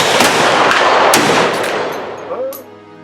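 A volley of Victorian-era rifles fires at a rifle shoot in Bowling Green, Kentucky, several loud overlapping cracks in quick succession, then echoing rumble fading into the open air.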